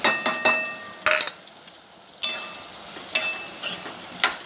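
Aubergine pieces with turmeric, salt, spices and peanut powder are stirred in a pan, with repeated sharp metal spoon clinks against the pan and a faint sizzle between strokes.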